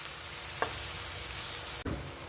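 Onion, garlic and green chili paste fry in a pan with a continuous soft hiss and sizzle, quiet and close, broken by two brief clicks of stirring.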